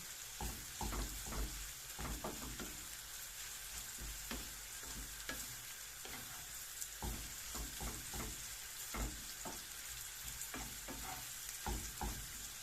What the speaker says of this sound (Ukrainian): нехай тушиться морква з цибулею